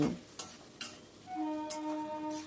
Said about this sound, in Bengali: দিয়ে সব কিছু ভালো করে মিশিয়ে নিচ্ছি